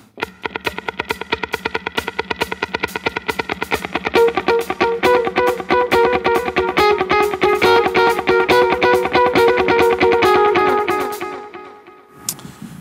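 A tap-tempo delay effect repeats a sharp percussive note in a fast, even stream of echoes that thickens into a sustained, distorted ringing texture, then fades out before a final click; no voices.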